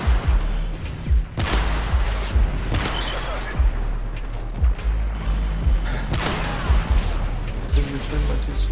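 Sniper rifle gunfire in Call of Duty MW3 during a sniper-only match, with sharp shots and game explosions recurring every second or so under steady in-game noise, and a player talking through it.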